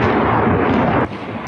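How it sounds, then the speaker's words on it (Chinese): Rocket launchers firing in a continuous barrage at night during the war in Ukraine, a loud, dense roar of blasts that fills the clip, dips briefly and then swells again at the end. "半夜火箭炮不间断连环发射"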